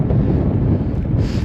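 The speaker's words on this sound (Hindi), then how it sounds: "बहुत तेज़ हवा चल रही है यहाँ पे टॉप में" Strong wind at a high mountain top on the Satopanth Lake trek in Uttarakhand, a steady loud roar buffeting the microphone close up, with no voices.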